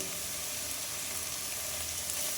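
Fennel seeds and curry leaves fry in hot oil for a beef curry, producing a dense, even sizzle that stays close and steady throughout, with no voices.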